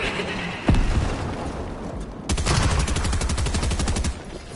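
Rapid SMG fire in Fortnite Solos shredding through player-built walls: a sharp shot, then a dense, steady burst of fast rattling shots for about two seconds, loud and close, with no talk.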